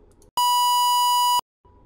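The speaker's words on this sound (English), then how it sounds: "Now it sounds really sharp, but it is a square wave." A code-generated square wave test tone sounds as one harsh, buzzy steady note about a second long, loud and alone between quiet room noise.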